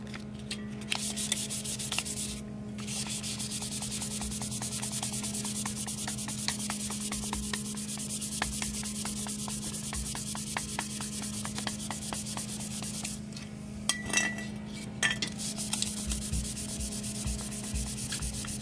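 Sandpaper rubs steadily back and forth over a surface during an acid-etching project, a close, continuous rasping with a low constant hum underneath and brief pauses near the start and end.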